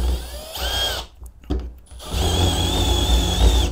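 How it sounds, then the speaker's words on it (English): Handheld drill gun boring into a piece of clamped wood, loud high whining spin that cuts out briefly mid-way and then resumes with a steady rising whine and rough grinding of the bit in the wood, close up. "right now I'm just destroying this wood. I don't think a drill gun is the way to go here."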